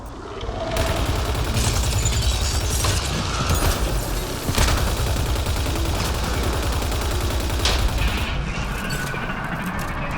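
Heavy, unbroken machine-gun fire in Mass Effect Andromeda, rapid shots hammering steadily with occasional louder booms punctuating the rattle, loud and close with no speech.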